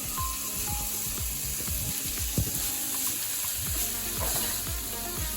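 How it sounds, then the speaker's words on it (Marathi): Masala spices sizzle and fry with broccoli in a hot pan, a steady crackling hiss with scattered stirring clatters and scrapes, close and continuous, with no talking. "मसाले चांगले फ्राय करून घेऊया."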